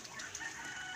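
Poultry kept as pets, geese with ducks, eating Indian mango in a rural yard: a steady, faint cluck and chatter of fowl with no talk.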